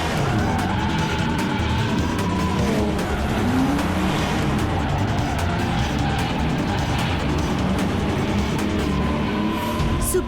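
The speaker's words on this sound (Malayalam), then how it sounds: "ആ കാർ വളരെ സ്പീഡായിട്ട് പോവാണ്. Jet speed." A cartoon car speeds away with a steady, dense engine roar and some tire noise that fill the whole stretch at an even loudness, with no talking.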